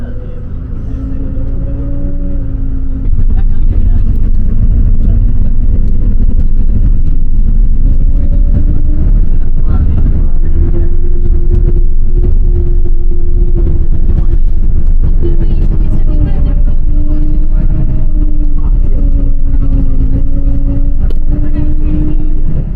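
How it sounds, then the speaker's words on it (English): A city bus engine labours up steep hills through narrow Lisbon streets, a loud, continuous low rumble with a whining tone that rises and falls as the engine strains, with a voice talking at times. "This bus is struggling up these hills"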